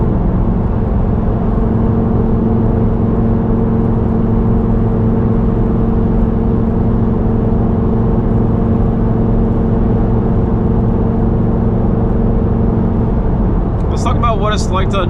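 A Lamborghini driven at night in winter gives a loud, steady low engine and road drone that hums on without a break, with a few sharp high chirps right at the end.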